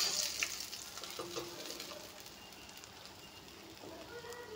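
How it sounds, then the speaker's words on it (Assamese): Bhangon fish fries crisp in a pan in a home kitchen, with a faint, steady sizzle and a few light clinks. "এতিয়া মাছখিনি ভাজা হ'ল"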